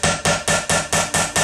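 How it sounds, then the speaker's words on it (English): A hammer drives a nail into scrap wood in seven sharp, evenly spaced blows, each strike loud and close with a brief ring after it. "If you just have hammer and nail, you can use that."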